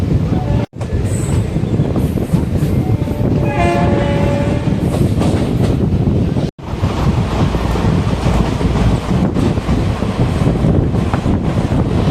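A Madurai–Coimbatore passenger express train runs at speed with a loud, steady rumble and rattle of wheels on rails, broken by a brief horn-like tone and two sharp drops, with no talk.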